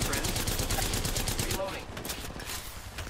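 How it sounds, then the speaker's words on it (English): Rapid automatic gunfire in an Apex Legends match, a dense stream of shots for about a second and a half, then lighter bursts further off. "I am taking fire, friend"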